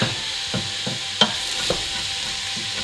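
Chopped vegetables and carrot sautéing in a pot for cauliflower soup with rice: a steady sizzle runs throughout, broken by a few sharp scraping knocks as a utensil stirs against the pot, with no talking.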